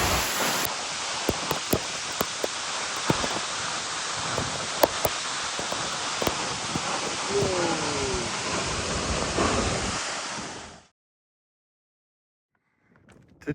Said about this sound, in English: Even if you stop here, you can see the waterfall pretty good.